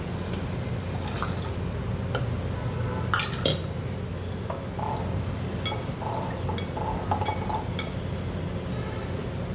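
Basmati rice is washed in a bowl under the tap, with quiet clinks and knocks of the bowl and faint splashing and trickling water, close and soft.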